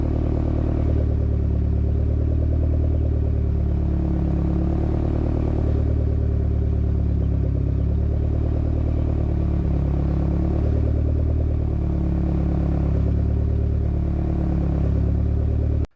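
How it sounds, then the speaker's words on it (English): A turbo diesel truck engine idles with a deep, steady exhaust drone and low rhythmic throb, close and loud, with slight surges in pitch. "The exhaust note changing really trips people up"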